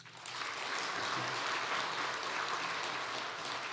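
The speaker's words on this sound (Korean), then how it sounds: "우리 박수 한번 하겠습니다." Congregation applauding a church choir during a Sunday service, a steady dense wash of many hands clapping that holds evenly throughout without a break.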